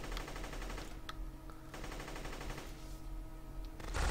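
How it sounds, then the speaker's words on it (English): Light machine gun in the Guncraft shooter fires in rapid bursts, a clattering automatic rattle with short pauses between strings of shots, fairly quiet overall and swelling louder at the end. "Go back to my light machine gun."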